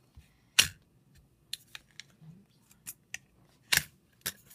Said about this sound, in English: open your scissors, push the cup a little bit, wiggle it down in there